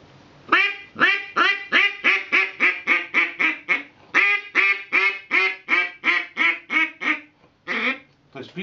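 A duck call filled with water is blown in two runs of rapid, rhythmic quacks imitating a duck, loud and close. A brief gap separates the runs, and a few weaker quacks close the sequence.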